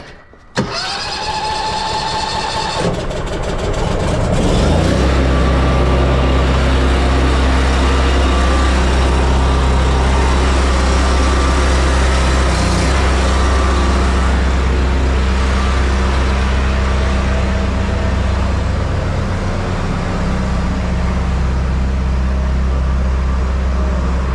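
An old vehicle engine with a replaced engine and gearbox cranks and catches, then settles into a steady, loud, rough idle that drones on continuously with a low rumbling throb.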